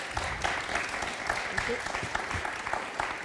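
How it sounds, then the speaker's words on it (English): Audience applause at an energy-themed annual conference, dense steady clapping from a crowd that fills the room at an even level throughout, with no distinct voices over it. "please an applause for our two splendid ladies, Francesca and Ilaria."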